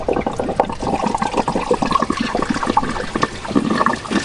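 Coolant drains out of a Nissan Navara YD25 engine block after the thermostat is pulled, giving a steady, close splashing and trickling pour that runs throughout.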